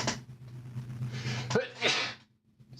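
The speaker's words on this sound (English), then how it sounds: "hold on while I sneeze" A single person sneezes sharply once, close and loud, with a drawn-in breath before the burst and quiet afterward.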